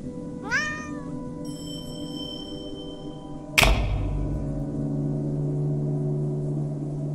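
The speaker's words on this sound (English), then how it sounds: "There's always room for one more cat." A cat gives a clear, rising meow over a quiet hum. A few seconds later comes a sudden hard thump, then a low sustained tone.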